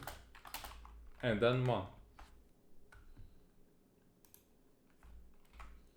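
Code being typed on a computer keyboard for a Unity main menu: rapid, close key clicks in short irregular bursts, with a brief stretch of someone talking between them.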